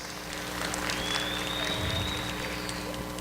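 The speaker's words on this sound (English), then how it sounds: "Let's give her a round of applause." A room of people gives a short round of applause after thanking a woman for her quick actions at a transportation meeting, a steady wash of distant clapping with a faint high whistle-like tone mixed in.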